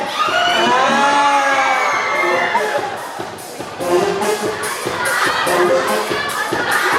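A large concert crowd cheers and shouts loudly, with high-pitched screams and whoops layered together, rising in bursts amid rhythmic thumps.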